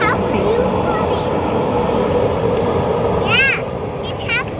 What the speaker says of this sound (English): So I thought I'll show you the sky train.